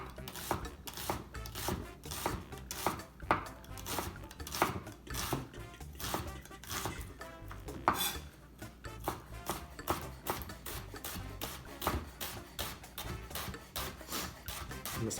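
Knife slicing an onion into strips on a cutting board, close and quiet, with a steady series of short cutting taps and rasps and no talking.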